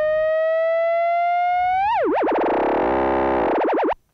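A Behringer DeepMind 12 synthesizer flute tone holds a steady pitch, then, with the mod wheel fully up, begins wobbling rapidly up and down in a strong vibrato before cutting off abruptly.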